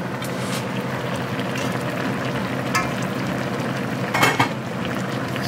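Steady sizzling and bubbling from pork stew frying in a pot on the stove, a continuous frying hiss with a couple of brief clinks or stirs near the end.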